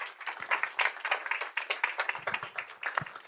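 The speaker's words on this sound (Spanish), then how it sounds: "yo termino con un aplauso para ustedes" A short burst of clapping and applause from a small group at the close of a TechSprint awards event, steady and fairly close, with no talking.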